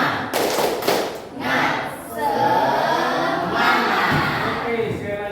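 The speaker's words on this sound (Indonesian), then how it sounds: "Kita buat tepuk semangat ya." A group of children performs a rhythmic spirit clap chant in a classroom, shouting in unison between bursts of coordinated clapping and thumping, loud and close with voices dominating.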